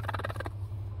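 A brief, rapid burst of throaty pulsing clucks from a broody hen puffed up, close and low, stops after half a second, leaving a steady low hum.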